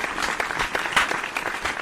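Hard, rapid clapping makes a short burst of sharp, dense claps, close and fairly loud, with no speech over it.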